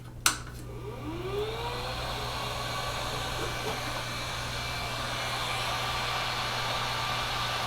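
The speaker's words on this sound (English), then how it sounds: "my heat gun." A heat gun blows hot air in a workshop while a 3D printer high-flow kit is installed, giving a steady, close whooshing roar with a steady low hum beneath it and a sharp click at the start.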